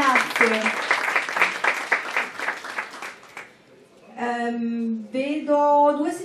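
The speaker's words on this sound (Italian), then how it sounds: "Ancora un applauso a Domenico Napoli" An audience at a poetry event gives a brief burst of clapping for Domenico Napoli, loud and rhythmic, which fades as a voice begins speaking.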